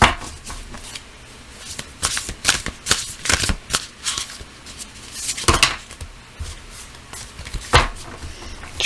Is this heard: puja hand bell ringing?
no